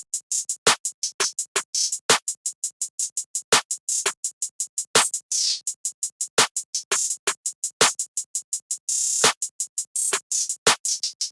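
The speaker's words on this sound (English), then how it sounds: "I laid down the basic snare pattern" Crisp, fast-ticking hats run throughout while punchy snare hits land at regular intervals, forming a steady looping drum pattern with no voices.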